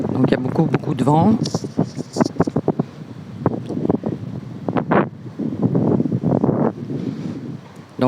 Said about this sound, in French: Donc il y a beaucoup de vent.